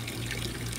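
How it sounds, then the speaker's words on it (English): Tap water runs steadily into a watering can for plants outdoors, a continuous close splashing fill with no talking. "I use this once again to fill up the watering can for plants"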